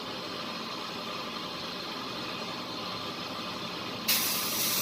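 A sharp hiss of air escaping from a slightly loosened gauge hose fitting on a car air conditioning system. It bursts in abruptly near the end over a steady background drone and keeps going loud to the close.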